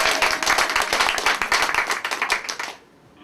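Wedding guests at a civil ceremony break into dense, loud applause from many hands, sustained for nearly three seconds before stopping abruptly into quiet.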